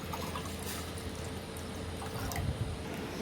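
Water is poured into drinking glasses in a quiet room, a soft continuous trickle and splash lasting about three seconds, close to the listener and with no talking.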